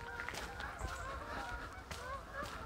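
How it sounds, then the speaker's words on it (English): A goose honks repeatedly at a distance during a clear-morning walk in the UK, the calls scattered and overlapping against steady outdoor background noise. "A goose."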